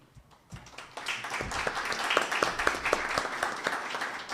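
Audience applause at a formal event in Mexico, following a speaker's introduction of the event coordinator; a dense patter of many hands clapping that builds after the first second and holds steady, fairly loud, with no talk over it.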